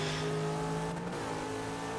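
Engine drone from race cars in the video game Forza Motorsport 6, a steady loud hum with shifting tonal lines as the cars drive back toward the pits, continuous throughout with no talk.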